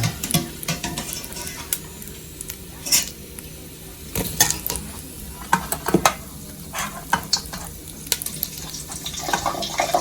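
Chicharon tipped into a hot pan for Ilokano pinakbet and stirred, with close, irregular clinks and scrapes of a utensil against metal over a steady frying sizzle.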